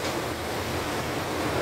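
Strong typhoon wind during a Signal No. 10 storm in Macau roars in a steady, loud broadband rush with no pauses or voices.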